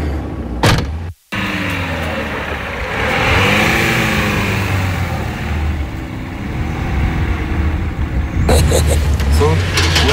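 An old car, bought in 1979, idles with a steady low engine rumble, then revs as it pulls away; a door thuds near the start and people talk over it.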